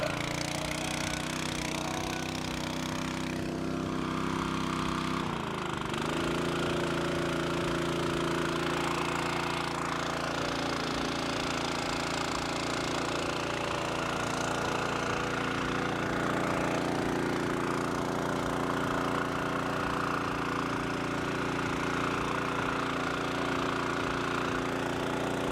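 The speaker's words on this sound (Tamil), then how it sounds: "பார்க்குறது ஒரு பெட்ரோல் பம்பு." A Chinese-made petrol-engine motor pump runs steadily for fish farming, a loud, continuous rattling engine drone close by that holds without pause throughout.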